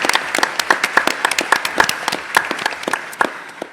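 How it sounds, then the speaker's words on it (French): An audience at the opening ceremony of a 2023 congress claps steadily for a few seconds, dense overlapping hand claps that fade slightly toward the end. "Merci, oui, on peut les applaudir."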